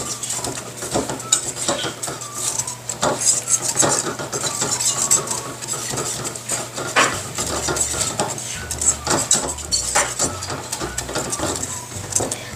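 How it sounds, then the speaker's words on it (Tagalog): A spoon clinks and scrapes against a pot while dissolved cornstarch is mixed into a chili ice cream base on the stove, producing brisk, irregular metallic taps and rubbing strokes, close and fairly loud, with no voices. "I-mix natin yan until maging translucent at gummy na siya."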